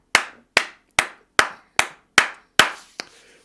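Slow, evenly spaced claps from a church congregation, about eight sharp loud strikes in a steady rhythm with no cheering or voices, the last one softer.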